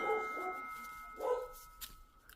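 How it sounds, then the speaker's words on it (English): A doorbell chimes twice, clear tones with a faint ringing tail, fairly quiet and heard alone. "Forgive me, that's my doorbell."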